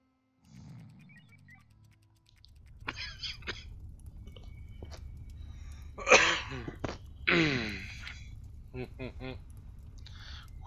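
Several throaty coughs and harsh throat-clearing bursts from a person, irregular and loud, spread across the stretch with short pauses between, over low background hum.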